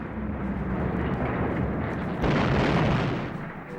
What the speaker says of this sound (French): Plus de 6000 canons tirent sur les lignes britanniques au nord de la France.